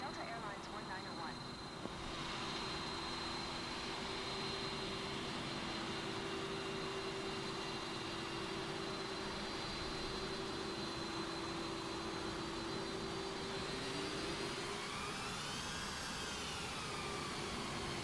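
A Delta Airlines jet takes off from runway 25 right in Microsoft Flight Simulator 2024, its engines holding a steady, loud roar throughout, with a whine rising near the end.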